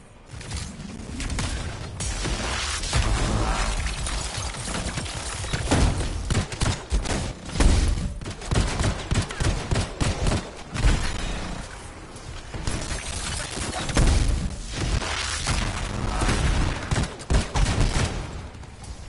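Dense, sustained gunfire from a PS4 shooter game, with rapid overlapping shots and bursts running throughout, loud and close, with occasional heavier thuds mixed in.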